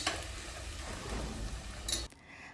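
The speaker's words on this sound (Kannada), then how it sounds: "ಫಸ್ಟು ಸಾಸಿವೆ, ಕರ್ಬೇವಿನ ಸೊಪ್ಪು, ಈರುಳ್ಳಿ ಎಲ್ಲ ಹಾಕ್ಕೊಂಡು ಒಗ್ಗರಣೆ ಮಾಡ್ಕೋಬೇಕು" Mustard seeds, curry leaves and onion hit hot oil in a pan, giving a broad steady sizzle with stirring and a brief clink of a utensil before the frying noise drops away.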